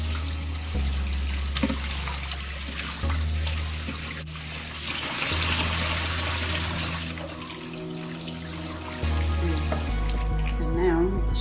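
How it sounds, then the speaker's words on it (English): Trout are washed in a sink, with steady running water and gentle splashing that continues for several seconds, fairly quiet and close, with low rumbling handling noise underneath and no talk. "Wash it a couple times until the water is clear."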